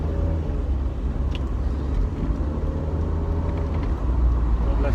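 A Mercedes SLK R170 driving at low speed, a steady close engine drone and road rumble holding even throughout.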